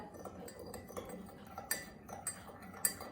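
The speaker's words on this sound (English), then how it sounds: "If I add a little bit of sugar to my cup of tea, I'm going to give it a stir" A spoon stirring sugar into a cup of tea, producing a series of light, irregular clinks and taps against the cup, close and fairly quiet, with a few sharper knocks near the end.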